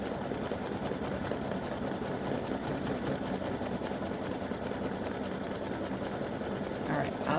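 A sewing machine runs steadily for several seconds, satin stitching along the edge of red fabric with a continuous close whirring drone, no pauses.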